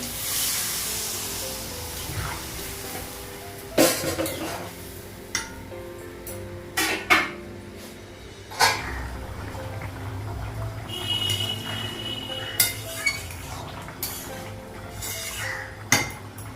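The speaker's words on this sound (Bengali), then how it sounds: "কড়াইটা ধুয়ে নিব" A kadai and other dishes are washed under running water, with a soft spray and scattered clanks of metal pots and clinks of utensils, some louder and sharper, and no talk.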